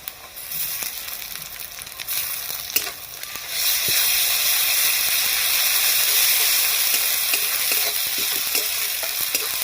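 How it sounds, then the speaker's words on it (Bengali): Ginger-garlic paste hits chopped onions already fried in a hot pan, giving a steady sizzling hiss that swells sharply after a few seconds, with occasional stirring clicks, and no voices. "এবারে এর মধ্যে দিয়ে দেবো আদা রসুন বাটা।"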